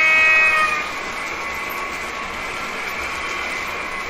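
A model Märklin H0 Taurus electric locomotive starts up with a rising electronic whine and steady humming tones, fairly loud at first, then settling into a continuous drone.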